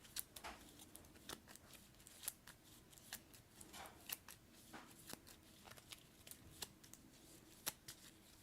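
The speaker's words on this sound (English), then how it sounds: "so she's got to shuffle her deck" Quiet, crisp card shuffling: a run of sharp little riffles and flicks coming in irregular bursts, close by, with no talking.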